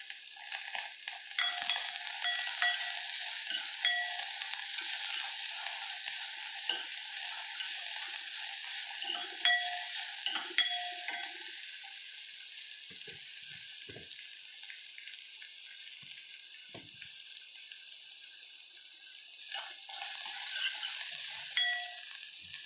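Garlic and green chilies sauté in a pan with a steady, moderately loud sizzle, and occasional scrapes and taps of stirring run through it. No one speaks.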